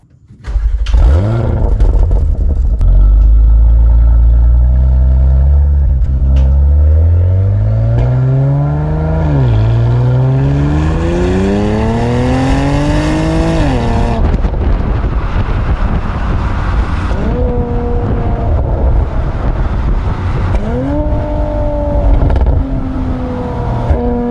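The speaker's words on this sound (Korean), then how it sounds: "배기 사운드가 제법 괜찮아요" A Porsche Macan GTS SUV engine revs hard and loud, its exhaust note rising and falling in long sweeping pitches, then settling into quieter pulsing revs near the end.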